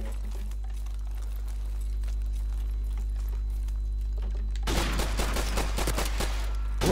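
In Modern Warfare Remastered, a low steady hum runs for several seconds before a loud burst of rapid gunfire breaks in and continues as a dense rattle through the end.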